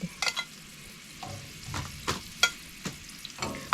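Dried sapsap fish, a small batch, fries outdoors in a pan with a low steady crackle, broken by sharper pops and scraping taps of a utensil against the pan.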